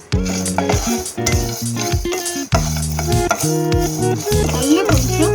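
Dried coconut (copra) is stirred and dry-roasted in a metal pan for bhakharwadi stuffing, with repeated scraping and clattering strokes of the spoon against the pan, moderately close, over soft sizzling.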